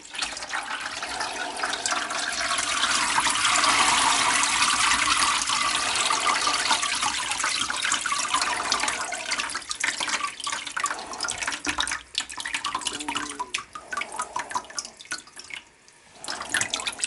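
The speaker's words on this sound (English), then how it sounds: "I'll just lift the bucket up for a minute. I'll drain some of it out." Liquid from a gold-recovery bath of RAM sticks drains out of a lifted bucket in a steady, close pour that thins and trickles off toward the end.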